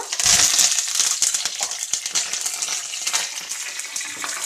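Fresh curry leaves dropped into hot oil with urad dal in a pan, a loud burst of sizzling spatter at the start that settles into a steady crackling fry.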